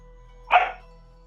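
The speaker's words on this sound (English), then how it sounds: "Yeah, Doc's barking" A single sharp dog bark rings out once, close and clear, against an otherwise quiet background hum.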